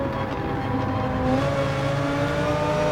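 An Audi R8 GT3 race car engine revs in Gran Turismo 7, a continuous, close, loud harmonic whine that holds steady for a few seconds with no talking.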